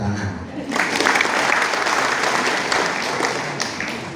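An audience at an education workshop breaks into applause after a short voice, the clapping swelling quickly and holding as a dense, steady wash of many hands before tapering.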